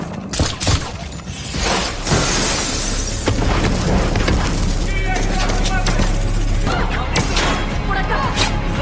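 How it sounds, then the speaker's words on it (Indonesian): A fierce film battle, loud continuous booms, crashes and shattering debris with rumbling blasts and scattered gunfire, dense and chaotic throughout, with a voice speaking over the noise. "pertempuran sengit pun terjadi."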